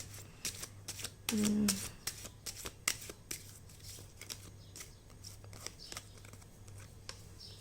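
Tarot cards being shuffled and drawn, with a quick rustling riffle of a deck followed by scattered soft card slaps and flicks, close and fairly quiet.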